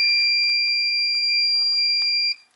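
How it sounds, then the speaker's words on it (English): An ultrasonic radar alarm device (Radar Alarm 3000EX) emits a steady, piercing high electronic tone for about two seconds, then cuts off abruptly. "And you can hear that the alarm goes off"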